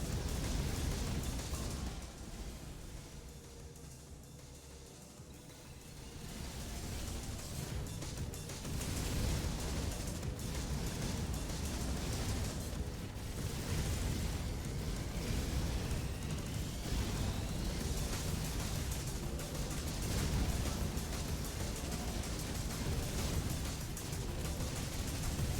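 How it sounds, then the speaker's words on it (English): Explosion in the video game Picayune Dreams, a sustained dense roaring blast that fills the clip at moderate loudness, with rumbling bursts and no talk over it. "Ah, that's just a beautiful fucking explosion."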